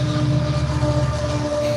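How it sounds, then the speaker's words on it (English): A train rolls past with steady rumbling and sustained tonal hums, loud and continuous throughout with no talk over it. "Hello, train."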